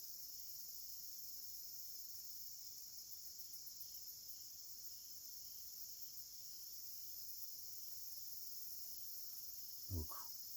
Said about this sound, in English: Little cricket here inside the canoe.